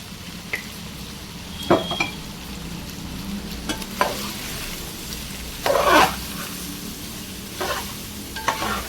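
Chicken fry being stirred in a pan, steady sizzle broken by repeated scraping and clanking strokes of a spoon against the metal, close and without speech.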